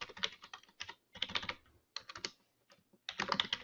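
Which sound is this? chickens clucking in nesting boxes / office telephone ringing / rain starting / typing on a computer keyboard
typing on a computer keyboard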